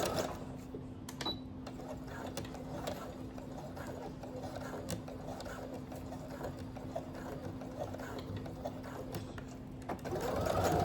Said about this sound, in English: Stitch again, just a couple more times.